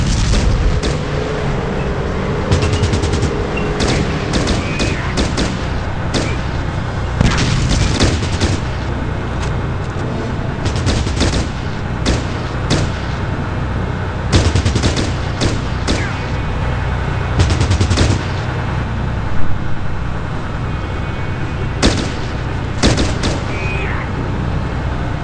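Gunfire in the video game Fallout Tactics, a run of sharp shots and bursts scattered irregularly across the stretch over a steady low background rumble, with someone talking at times.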